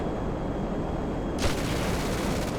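Jet cannon fire and explosions from an F-15C Eagle in GTA 5, a dense roaring rumble with a sharp burst partway through, loud and continuous.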